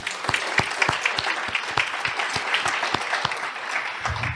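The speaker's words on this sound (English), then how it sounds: "give him applause" An audience at a community health forum claps warmly, a dense spread of handclaps with some distinct sharp claps standing out, steady throughout and alone.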